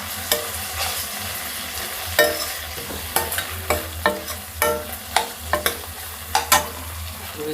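Softened tomatoes for vegetable pulao fry in a pan while a spoon stirs them, giving a steady sizzle broken by a dozen or so sharp scraping clicks at irregular intervals, close and with no talking.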